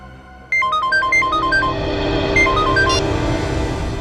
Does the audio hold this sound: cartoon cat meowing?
no